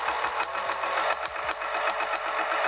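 A sewing machine stitching a zipper pocket on vinyl, a fast steady mechanical whir and rapid needle chatter running continuously, loud and close with no talking.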